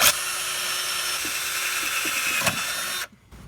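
A power drill bores pilot holes in Jeep JK fender trim, a loud steady high-pitched whine running for about three seconds before cutting off abruptly.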